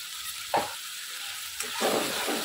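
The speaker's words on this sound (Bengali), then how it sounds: "মশলাটা একটু ভালো করে ভেজে নেব।" Spice paste frying in oil in a pan for a parshe fish and eggplant curry, with a steady close sizzle and a couple of brief stirring scrapes, no voices.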